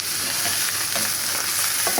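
Bitter gourd frying in a lightly oiled pot, a dense continuous sizzle with a few soft stirring scrapes, close and fairly loud with no voices.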